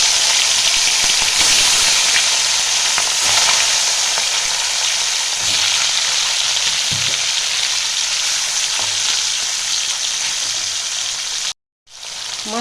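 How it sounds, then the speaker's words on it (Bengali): Hilsa fish pieces fry in hot mustard oil, giving a loud, continuous sizzle with occasional spitting pops and a brief cut to silence near the end. "তেলটা ভালো করে গরম হয়ে গেছে, এবার আমি মাছগুলো ভেজে নেব।"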